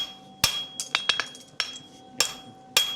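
Hammer blows on hot steel against an anvil while forging a horseshoe toe: sharp ringing metallic strikes, about eight spaced irregularly, some in quick pairs, each decaying with a bright ring.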